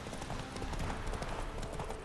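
Roach the horse gallops in The Witcher 3, a rapid, steady drum of clip-clopping hooves over a dense noisy game soundscape, continuous and fairly loud.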